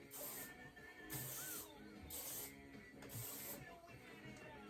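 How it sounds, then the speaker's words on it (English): Hairspray from a spray can hitting sections of hair during beach-wave curling, heard as four short, bright hissing bursts spaced about a second apart over a steady background. "Spraying each section."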